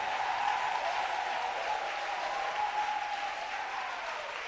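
A church congregation applauding, a dense, steady wash of clapping from many hands that holds evenly throughout without a break.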